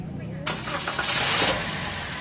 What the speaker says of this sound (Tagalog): Tsaka mo ngayon i-start ulit itong makina.